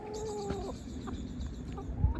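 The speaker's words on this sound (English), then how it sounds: "I'm gonna go and say hello to these chickens" Hens at a small plant nursery clucking softly in short, scattered calls, close by over a quiet outdoor background with no talking.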